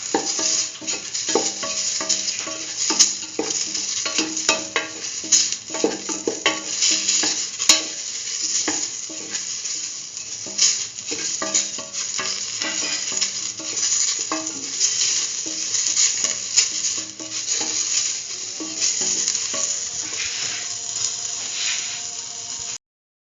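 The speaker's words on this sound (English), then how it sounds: "Thoroughly mix." Curried mustard lentil stew with fenugreek leaves stirred in a pot, continuous scraping and sloshing with a steady sizzling hiss throughout, close and fairly loud, no talking.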